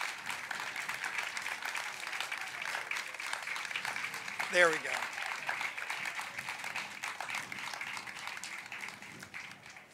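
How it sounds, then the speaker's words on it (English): Audience applause at a campus ribbon cutting ceremony, a continuous crowd clapping at moderate level that runs the whole stretch, with a brief spoken remark partway through. "Could you please give them a round of applause?"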